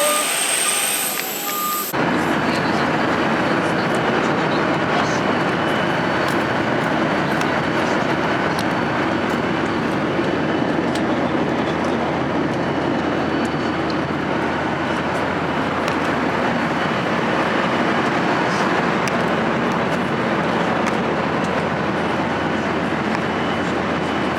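A train rumbles steadily along the tracks for a long stretch, a loud continuous roar with faint rhythmic clatter, after a brief quieter moment at the start.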